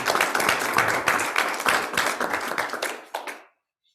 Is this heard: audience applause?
yes